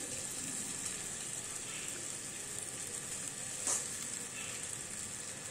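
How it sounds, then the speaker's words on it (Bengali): Soaked sabudana (sago) hits a hot pan for a vegetarian sago polao, giving a steady, even sizzle throughout with one brief louder hiss partway, and no talking. "এবার আমি যে সাবুগুলো ভিজিয়ে রেখেছিলাম সেগুলো দিয়ে দিচ্ছি"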